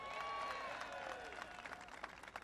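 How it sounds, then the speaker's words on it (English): Applause from a large crowd, with clapping and scattered cheering at a college basketball event honoring the Hurricanes, steady and dense throughout, heard from a distance with no speech over it. "No, they deserve a big round of applause."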